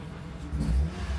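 A Renault Clio engine idles with a low rumble, then briefly rises in a short rev before settling back, close and steady.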